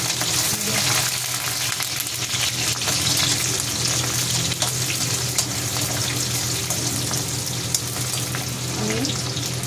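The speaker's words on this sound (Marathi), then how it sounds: "जास्त फ्राय नाही करायचं लसूण, म्हणजे कच्चं ठेवायचं." Garlic fries in a hot pan with a steady, loud, continuous sizzle and a light stirring scrape throughout, with no voices.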